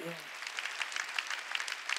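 A church congregation applauds during a Sunday worship service, a scattered, moderately distant clapping that follows the brief tail of a voice and continues through the rest of the clip.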